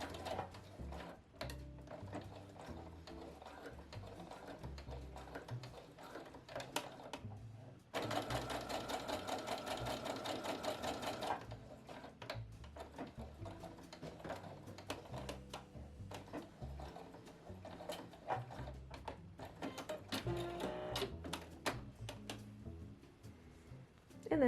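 A sewing machine stitches fabric coaster pieces in quiet bursts, with one longer, louder continuous run of rapid mechanical whirring in the middle and short stops and starts around it.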